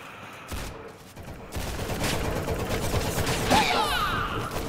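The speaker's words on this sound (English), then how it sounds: "He's probably just shooting." Dense, continuous gunfire from the Roblox shooter game Arsenal, a loud, busy barrage that keeps going throughout with no one talking.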